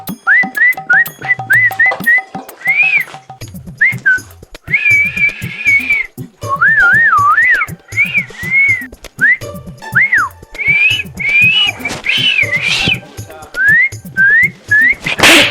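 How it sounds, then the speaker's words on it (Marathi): Loud, close human whistling in short melodic phrases, rising and warbling, with brief pauses between bursts throughout. "तुम्ही शिट्ट्या वाजवा"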